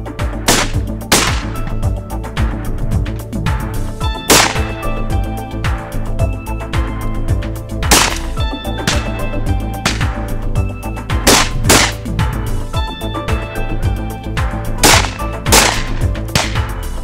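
Repeated loud shotgun blasts at a driven red partridge hunt in Castilla-La Mancha, Spain, sharp reports firing in quick irregular succession across the whole stretch, close and dominant, with no talk.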